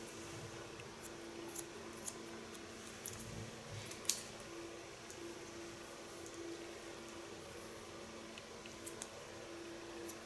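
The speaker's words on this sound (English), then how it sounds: "Cut the hairs in a natural line." Scissors snip hair during an asymmetrical bob haircut, giving quiet, scattered crisp clicks at irregular intervals over a faint steady background hum.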